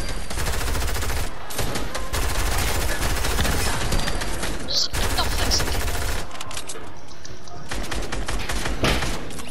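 Drum gun firing in a Fortnite match, long loud sustained bursts of rapid automatic shots with brief pauses between them, up close.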